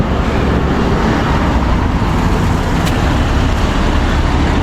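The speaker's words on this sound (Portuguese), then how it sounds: "Um barulho aí, tá bem movimentada a rua." A steady, loud roar of busy street traffic fills the scene, vehicles passing continuously with no pauses.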